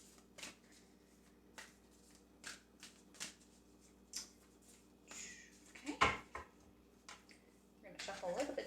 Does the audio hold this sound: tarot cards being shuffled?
yes